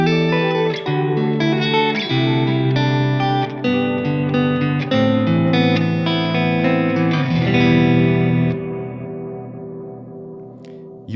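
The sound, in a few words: ambient guitar through delay and reverb effects, darker reverb tone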